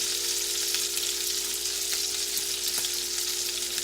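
A pork steak sizzles steadily in a hot pan, a dense, even hiss with faint crackles, close and continuous with no talking.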